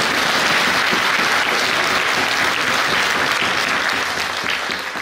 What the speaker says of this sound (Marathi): टाळ्यांचा गजर आपण करा